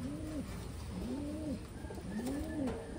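A Taiwan racing pigeon hen coos three times in a soft, rolling, evenly spaced rhythm, close and quiet against faint background hiss.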